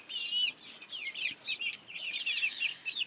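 Several Rhode Island Red and Barred Plymouth Rock hens cluck and chatter in short, busy bursts, overlapping calls coming from close by over quiet background.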